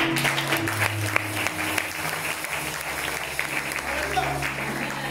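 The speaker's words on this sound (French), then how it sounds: "Est-ce qu'on peut acclamer pour vous?" A church congregation breaks into applause, a steady wash of clapping from many hands that carries for several seconds while a voice speaks over it.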